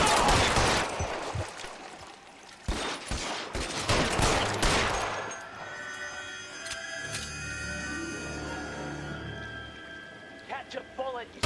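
Heavy bursts of gunfire in a climactic shootout in L.A. Noire, loud rattling volleys through the first half, then dying away into quieter ambience as someone shouts over the action.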